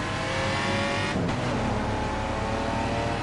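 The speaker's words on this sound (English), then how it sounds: "that's just the classic engine sound that you hear, especially on the upshift" A Ferrari touring car engine in the racing game The Crew 2 revs hard at high RPM, a loud continuous roar with a brief dip around an upshift before climbing again.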